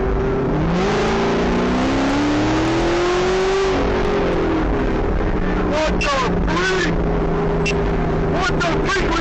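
A car engine revs and accelerates on a secluded, darkened road at night, a loud rising drone that swells and settles over steady broadband road noise, with no talking.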